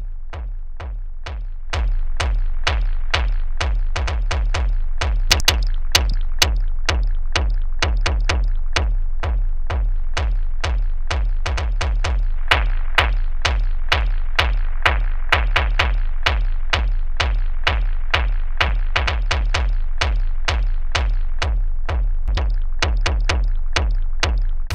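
Kick drum pattern processed with a large EQ boost, rapid repeated thumping hits over a dense, continuous electronic backing that starts after a brief lower-level lead-in, loud and upfront.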